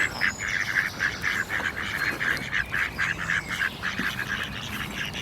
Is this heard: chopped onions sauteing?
no